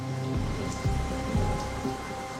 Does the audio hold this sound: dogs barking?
no